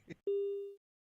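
A steady electronic phone line tone sounds right after a call is hung up, one sustained beep lasting about half a second, clear and close, following a brief burst of noise.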